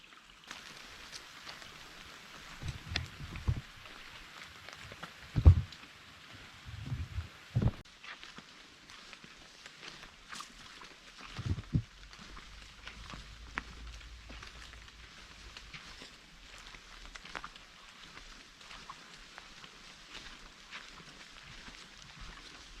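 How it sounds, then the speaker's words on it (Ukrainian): Soft, steady patter of rain dripping outdoors at the Shatsk Lakes, Ukraine, on a windless day, with a few louder dull knocks and thumps nearby; no one speaks. "так гарно крапає дощик, вітру немає."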